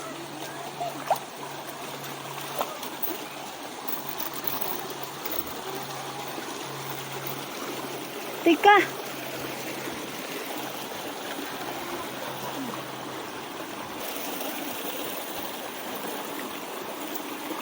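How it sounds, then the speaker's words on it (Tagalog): A mountain river flows in a steady, continuous rush of water nearby, with a brief word spoken and a few faint knocks over it. "Ilog bundok. Ano ilog to? Dito sa bundok."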